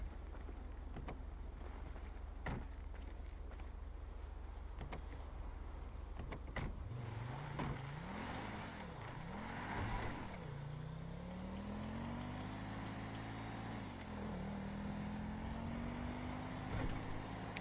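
Car in a roleplay video game starting up and driving, with a low engine hum that swells and dips as it accelerates and shifts, steady and fairly close, after a few seconds of low rumble and clicks.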